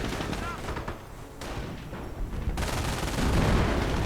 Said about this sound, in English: he's got plenty of howitzers to call in on the German base